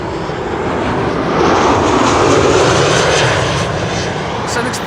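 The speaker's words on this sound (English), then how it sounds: "Sun Express arriving from Kayseri in Turkey, flight 1322, 3 hours and 42 minutes on the way." A SunExpress jet from Kayseri lands at Amsterdam Schiphol, a continuous broad engine roar that rises slightly as it passes, heard from the airfield with a faint trace of voices underneath.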